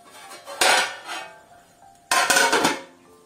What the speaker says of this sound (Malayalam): ഞാൻ ഇത് അടച്ചു വെച്ച് വേവിക്കുകയാണ്